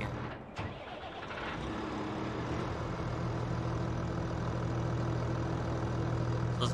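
A Kubota M8201 tractor with an M77 front loader cranks and catches, then settles into a steady diesel idle, a close, even low rumble with no talk.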